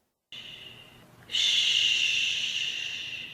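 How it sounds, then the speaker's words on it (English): A close, breathy shush, a brief soft hiss swelling into a louder, sustained sibilant hush that fades slightly before cutting off. "a human shushing in close proximity would probably sound something like this to us"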